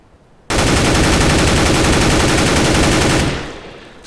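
A sustained burst of rapid suppressed automatic fire from a silenced rifle in CS:GO, loud and dense for about three seconds, then fading out, with no voices.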